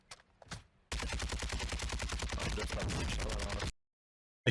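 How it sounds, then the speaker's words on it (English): Rapid automatic gunfire in the video game Warzone 2: a loud, continuous burst of evenly spaced shots lasting about three seconds, preceded by a couple of faint shots and ending abruptly in silence. "Let's see where he carries on shooting now."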